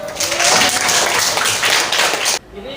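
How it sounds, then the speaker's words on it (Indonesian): Applause for Sandra from a classroom audience, a dense burst of clapping from a group that carries on steadily, then cuts off abruptly near the end. "ulang tepuk tangan untuk Sandra."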